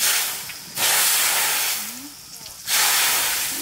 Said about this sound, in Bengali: তেল গরম হয়ে গেছে, দিয়ে দেবো তেজপাতা, শুকনো লঙ্কা, ফোড়ন।